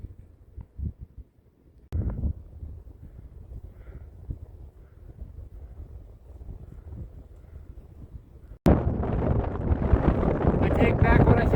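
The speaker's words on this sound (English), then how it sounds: "It got cold and windy again." Cold wind blows outdoors at a scenic viewpoint, starting as low rumbling buffets with a couple of sharp knocks, then bursting into a loud, sustained roar of gusts against the microphone.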